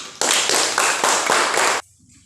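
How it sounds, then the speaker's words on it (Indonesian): A classroom group of children claps together in a short burst of rapid, dense applause, loud and close, which stops abruptly after about a second and a half. "tepuk tangan untuk kelompok ini"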